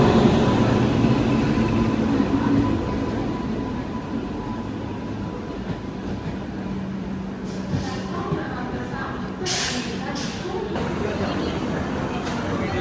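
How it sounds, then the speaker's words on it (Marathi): A passenger train pulls into a station on the way to Malvan, giving a steady low rumble that slowly eases over several seconds while people talk nearby. "अशा प्रकारे आमची ट्रेन आलेली आहे ऑन टाईम."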